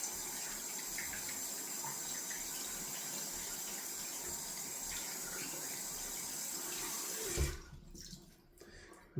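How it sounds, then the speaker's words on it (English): Tap water runs steadily as a shaving brush is rinsed under it at a bathroom sink, a constant close splashing rush that cuts off near the end, followed by a quiet pause. "Nicely rinsed off that brush."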